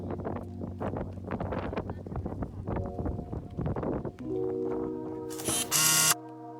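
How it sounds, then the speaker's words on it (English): Strong cold wind batters the microphone beside a lake, a rough roaring gusty rumble throughout with tonal hums underneath, ending in a harsh loud burst before dying away. "strong cold wind added up to blow off everything else"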